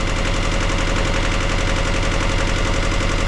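A sailboat's inboard engine idles steadily and loud, close by, with a continuous rapid knocking throb and no pauses or talk over it.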